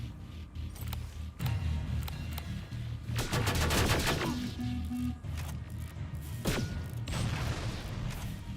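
Automated turrets fire in Terminator Resistance: dense, repeated bursts of gunfire with sharp cracks and rattling volleys, steady over a continuous mechanical background throughout the battle.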